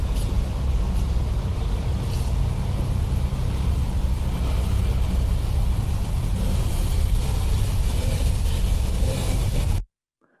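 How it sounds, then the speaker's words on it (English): An unseen vehicle approaches from a narrow side alley in a city street, its sound reflecting off the surrounding walls: a steady, dense broadband rumble that holds for about ten seconds and then cuts off abruptly. "the walls reflect the sound of an unseen vehicle approaching from the small alley on the left"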